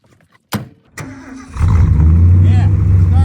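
A Ford dually pickup truck's engine cranks and catches after two short clicks, then settles into a loud, steady idle close by.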